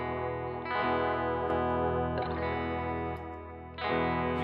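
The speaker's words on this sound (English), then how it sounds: "You can really hear what that studio compressor will do to your tone." Electric guitar played through a studio compressor, a Benson preamp and a Carbon Copy delay pedal, giving sustained, evenly compressed chords with lingering echo tails, with new strums striking about every one and a half seconds.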